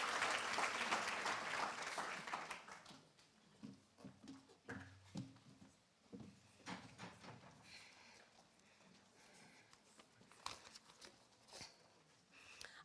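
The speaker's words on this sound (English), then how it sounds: "I think we can just give a nice round of applause for everyone" A crowd at a school of dentistry declaration ceremony claps, fairly faint and distant, strongest at first and then thinning out into scattered claps.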